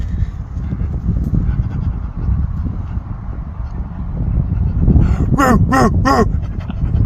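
A man imitates a dog, ending in a few quick, breathy panting bursts over steady background noise after a stretch of indistinct sound.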